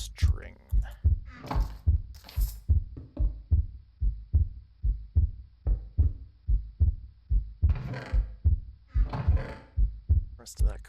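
Steady, rhythmic heartbeat thumps from Minecraft gameplay pulse loudly throughout, about two beats per second, with bursts of other game noises layered over them.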